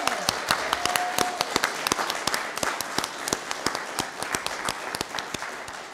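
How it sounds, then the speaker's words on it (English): A round of applause at a city council meeting honoring the state champion high school bowling team, with dense, steady clapping from the audience lasting throughout, sharp individual claps standing out over the crowd. "Can we give them a round of applause, please?"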